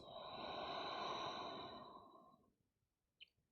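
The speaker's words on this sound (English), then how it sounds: "Deep breath out." A deep, audible exhalation during a slow-flow yoga session, a long breathy outflow of air lasting over two seconds that fades away, followed by a brief faint click in the quiet.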